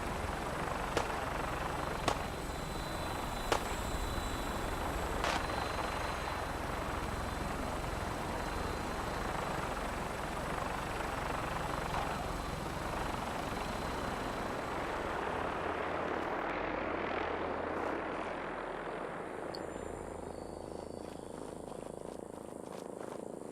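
An aircraft lands in a hot combat zone in Fallout 4, a continuous loud rotor-like engine drone that holds steady for most of the stretch, with a few sharp ticks early on and a slight fade at the end.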